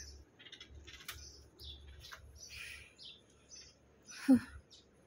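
Small pet birds chirp and tweet in short, faint bursts close by in a quiet room, with one louder squawk near the end.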